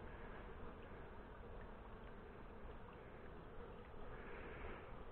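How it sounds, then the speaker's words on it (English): A steady, dense buzz of many honey bees flying around a hive while a queenless colony is combined with a queenright one, continuous and fairly soft, heard alone with no voices. "there's all the bees that were up flying about are having a look inside there"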